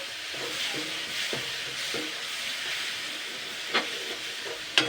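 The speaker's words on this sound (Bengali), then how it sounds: "মশলাটাকে কিন্তু ভালো করে কষিয়ে নিয়েছি" Spice paste made with vegetable peels sizzles in oil in a pan, a steady frying hiss with soft scraping stirs and a couple of sharper utensil knocks near the end.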